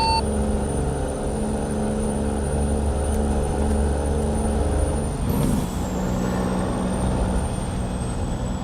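A loud diesel truck engine drones continuously in American Truck Simulator, a heavy low rumble from a 6-71 engine with a sudden hiss and shift in tone midway, with no talking.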